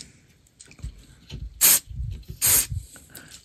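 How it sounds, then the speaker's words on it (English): Two short, loud hissing bursts of contact cleaner sprayed into the tuning capacitor of a 1954 Crosley E20TN antique radio, close up, with light handling clicks between them. "I like to start off by spraying just a little contact cleaner"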